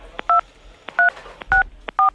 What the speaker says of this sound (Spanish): Márqueme código en el teléfono 2,